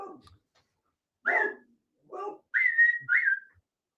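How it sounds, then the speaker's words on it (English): A dog named Cortana barks and yips several times in short, separated bursts, some with a whistly whining tone, fairly close and clear against a quiet room. "As Cortana barks at something, probably the gate from the house across the street."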